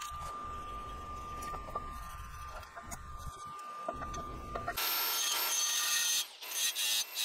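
A saw cuts through a clamped length of steel exhaust pipe for a Honda CRX, giving a steady rasping scrape that turns into a louder, harsher grind partway through, close and without talk.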